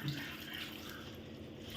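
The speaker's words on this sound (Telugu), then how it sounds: "ఇది ఇట్లా నీళ్ళు పోసి" Water runs and splashes steadily into a container for a couple of seconds, close by, with no one speaking.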